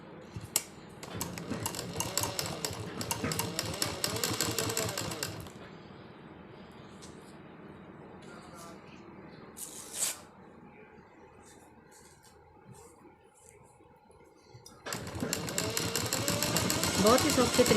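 Sewing machine stitching fabric in rapid mechanical bursts, a loud run at the start and another at the end, with quieter pauses and handling noise in between.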